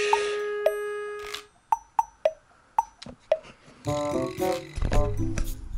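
A short Sega Genesis Mini 2 startup jingle: a run of bright, plucked chime notes in a rising pattern, followed by a fuller synthesized chord swell.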